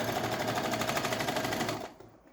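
A sewing machine stitches a fabric placemat without backstitching, a rapid close mechanical rattle running steadily for almost two seconds before stopping abruptly.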